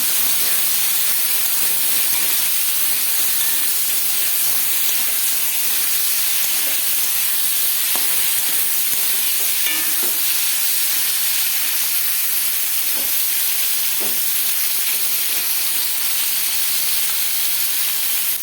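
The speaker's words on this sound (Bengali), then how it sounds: "কই মাছ কিন্তু কড়াইতে দিয়ে নাড়তে হবে কিছুক্ষণ, না হলে মাছগুলো বেঁকে যায়" Koi fish frying in hot mustard oil in a kadai, a steady loud sizzling hiss that fills the whole stretch, with occasional faint pops and scrapes as the fish are stirred.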